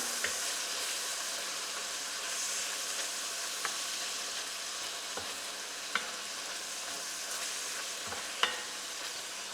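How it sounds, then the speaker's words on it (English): Minced beef browning in a pan for cottage pie, a steady soft sizzle with occasional light clicks and scrapes of stirring, close and even throughout with no talking. "We're just waiting now till the meat is all browned off."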